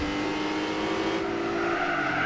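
An Audi S3 engine in the racing game Gran Turismo 4 drones steadily at high revs, pitch climbing as it accelerates, loud and close with a faint tire hiss underneath.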